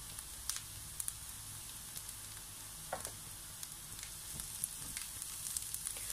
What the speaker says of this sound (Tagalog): So uunahin ko muna igisa ang sibuyas.